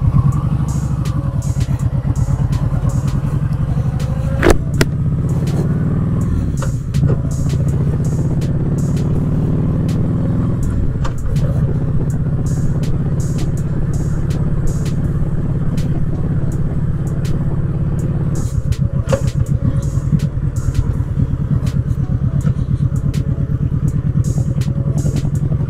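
A motorcycle cruising along an open road, its engine a steady loud drone throughout with a few passing clatters and bumps.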